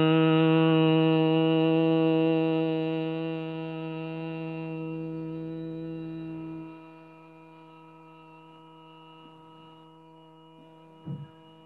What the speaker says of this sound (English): So Brahmari, so we have to make the sound of a B.